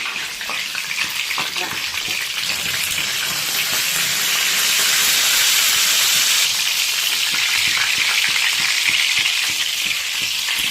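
Small charapona fish frying in hot oil in a pan for a Bengali teljhal, a loud continuous hissing sizzle with faint bubbling, steady and close, under quiet background sounds.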